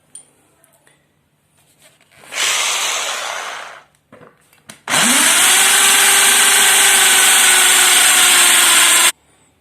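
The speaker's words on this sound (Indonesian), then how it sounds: "Nanti kita gunakan bor baja." A power drill bores into a hard steel washing-machine dryer part with a steel drill bit: a short burst, a pause, then a long, loud, steady high whine that holds for several seconds before it stops abruptly.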